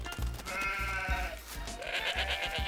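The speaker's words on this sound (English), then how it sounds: "We're a herd of sheep and goats." Several sheep and goats bleat loudly and close by, overlapping wavering cries one after another in a short burst.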